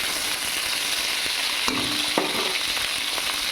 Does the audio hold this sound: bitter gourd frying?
yes